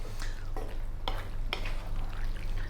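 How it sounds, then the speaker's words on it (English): A spoon stirs saucy sausage and chicken frank cheesy pasta in a pan, giving a few scraping strokes roughly every half second over a steady low simmer, close and moderately loud. "let's just cook it for another 3 minutes, stirring all the time"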